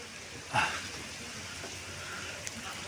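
Rain falls steadily on a pear orchard, a soft, even hiss throughout, broken by one brief louder knock early on and a faint tap later.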